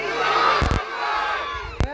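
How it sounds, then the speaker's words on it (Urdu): A crowd at a religious gathering shouts back a slogan in unison, a loud sustained collective roar with two sharp bursts standing out, one early and one near the end. "نعرے دا جواب دو"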